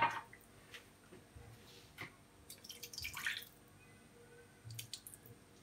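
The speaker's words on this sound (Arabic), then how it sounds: "الماء غادي ندير هاكا شويه الماء" A little water is poured over chicken in a baking dish for Moroccan oven-roasted chicken, giving faint, scattered drips and small wet splashes in a quiet kitchen.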